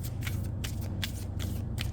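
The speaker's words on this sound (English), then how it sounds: "Again, I only do overhand shuffling" Glossy tarot cards being overhand shuffled by hand, a steady run of crisp, rhythmic flicks about four per second, close and clear, with no talking.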